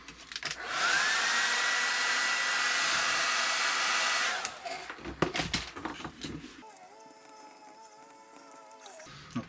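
A hair dryer blows steadily and loudly over clay wash on a 1/32 Hasegawa Fw 190 D-9 Dora model kit for about four seconds, then cuts off, leaving scattered handling clatter and a faint tonal hum.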